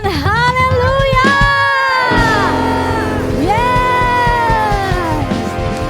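A church congregation shouts hallelujah together, a loud, sustained crowd roar of voices rising and falling in long held cries, with cheering and whoops layered close over a continuous backing.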